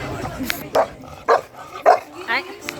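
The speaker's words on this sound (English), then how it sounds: "what's that barking for?" Chow chow dogs at a dog-friendly café in Melbourne give several short, close barks and yips at a steady pace, with people talking quietly in the background.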